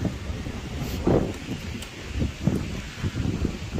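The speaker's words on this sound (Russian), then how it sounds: "Волны прям как на открытом море, а не на заливе." Wind buffets the microphone on a Botany Bay beach in Australia, with rough surf washing in beneath; gusts swell and fade in uneven bursts over a constant low rumble.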